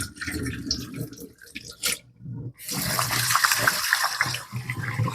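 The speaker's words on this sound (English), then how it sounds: "You want to wash it till at least the rice start to run clear." Tap water runs and splashes over rice being washed in a pot or bowl, a loud rushing stream that pauses briefly, then pours again steadily.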